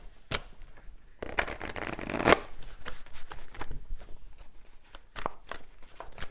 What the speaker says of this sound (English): Okay, so let me just get a final card here.